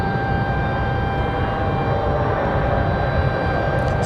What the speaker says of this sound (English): Spirit Airlines touching down.